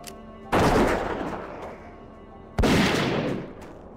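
Two loud gunshots from a hunter's gun in World of Warcraft Classic, each a sharp crack followed by a long booming decay, spaced about two seconds apart.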